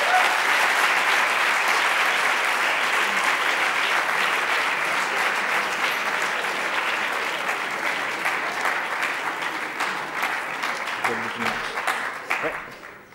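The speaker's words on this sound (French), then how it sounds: "que je vous demande d'applaudir." Sustained applause from the audience at the Eloquencia 2012 eloquence contest final as a lawyer finalist is called up, steady and dense for about thirteen seconds before tapering off at the end.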